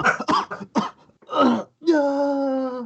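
A person makes a burst of rough, exaggerated coughs, pauses, then lets out a long strained groaning vocal sound, imitating a coughing fit.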